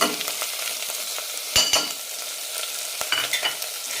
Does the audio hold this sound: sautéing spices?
yes